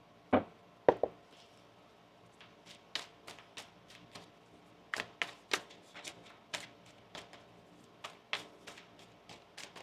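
A deck of tarot cards is shuffled at close range, giving a string of crisp, irregular taps and soft riffling clicks against a quiet background.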